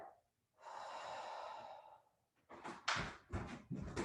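A person doing a tummy breathing exercise, drawing the belly in and releasing it. A long, steady breath sounds close to the mic, and a few sharper, gusty breaths and puffs follow. No one speaks.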